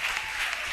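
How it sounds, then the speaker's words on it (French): A church congregation claps together during a testimony service, a dense, steady wash of applause that fills the whole short moment without any voices standing out. "Applaudissez pour Jésus."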